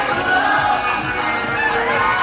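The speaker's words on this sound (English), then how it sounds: "The crowd coming alive." A crowd at a match roars in a dense, continuous wash of cheering and noise, loud and sustained throughout.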